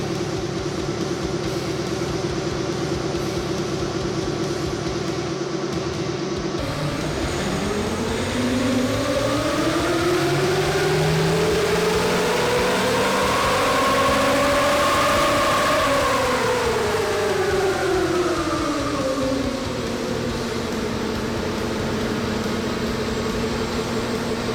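A Nissan Patrol with an M57 engine and 37-inch tyres runs on a dyno. A steady engine drone climbs in pitch over about eight seconds, peaks, then winds back down, loud and continuous throughout.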